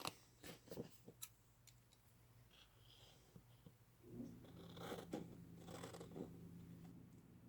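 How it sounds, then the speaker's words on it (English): Scissors cutting a window mask sheet with the backing still on for a Lexan RC body, quiet close snips and rustles of the sheet, faint with no talk. "first I cut it out with the backing still on it with a pair of scissors"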